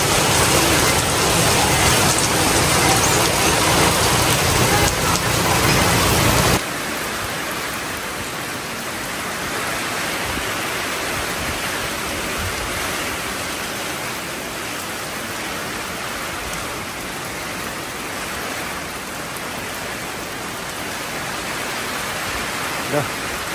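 Steady rain hisses throughout, heavier and louder for the first several seconds, then easing into a constant softer downpour.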